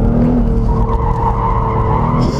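A Porsche 911R with a naturally aspirated engine roars loudly up close while its tyres squeal and skid, the engine note holding a strong, steady pitch throughout.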